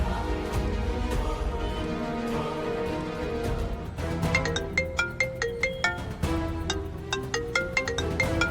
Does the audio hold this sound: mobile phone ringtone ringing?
yes